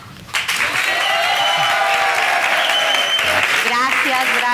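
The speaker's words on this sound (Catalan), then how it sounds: "comenceu a aplaudir i a cridar com bojos" Loud, dense applause with shouting and cheering from an improv show audience, rising abruptly and holding steady at full volume throughout.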